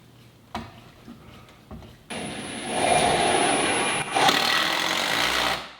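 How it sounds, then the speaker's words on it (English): A power drill drives a screw into a wall stud during sheetrock wall repair: a few short clicks, then a loud sustained whirring run of about two seconds with a brief restart, close by. "I'll run a screw right into this stud"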